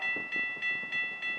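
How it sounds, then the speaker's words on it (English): Two SafeTran Type 3 bells at a railroad crossing ring steadily, with regular bright metallic strikes about every three tenths of a second over distant rumbling background noise. "There are two bells on the north side of the crossing"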